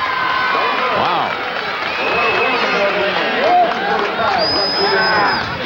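A lively crowd at a high school football championship game between Minersville and Pius X cheers and roars continuously, with a sustained babble of many voices and a whistle near the end.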